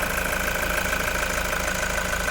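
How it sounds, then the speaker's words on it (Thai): A 2016 Toyota Commuter 3.0 diesel van engine idles steadily, a close and constant rattling hum that holds even throughout with no speech. "ตอนนี้สตาร์ทเครื่องอยู่นะคะ คุณลูกค้าสามารถฟังเสียงเครื่องยนต์ได้เลยค่ะ"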